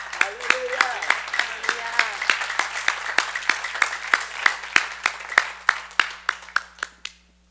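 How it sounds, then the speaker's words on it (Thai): A church congregation claps in rhythmic unison, sharp evenly spaced claps close by that thin out and fade, with a voice heard over the start. "Let's just clap to him"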